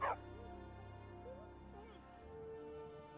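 A pet dog in the video game Skyrim whimpers and gives soft yips, faint and broken, over a steady bed of game music and ambience.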